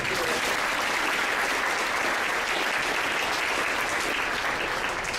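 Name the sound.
audience round of applause at a band parade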